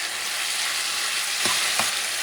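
Chopped green onions sizzle steadily in a hot pan while cooking for Kung Pao chicken, with two brief stirring scrapes near the end and no voices.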